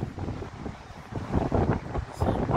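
Stormy wind buffets the microphone on the beach at Praia da Rocha, Portimão, a rough gusting roar rising and falling with crashing surf underneath, loud and close.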